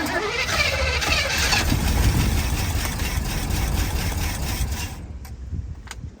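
An old van engine that had sat for years cranks and catches, revving roughly and loudly up close before settling and cutting off, with a couple of faint clicks afterward.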